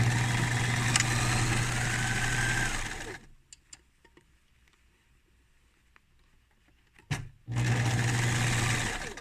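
Sewing machine zigzag-stitching over raw fabric edges as seam finishing on a tiered lolita dress: a loud, steady mechanical whir that runs for about three seconds, pauses to near silence with faint handling clicks, then starts up again.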